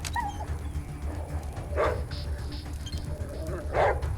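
Dog in the video game ATOM RPG whimpering and giving short barks, two louder bursts standing out over steady game background noise, with a voice heard faintly at times.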